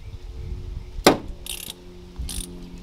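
A hand ratchet clicks in short, close bursts while loosening Allen head bolts on a TorqStorm supercharger, with a sharp metallic snap followed by two brief runs of rapid pawl ticking.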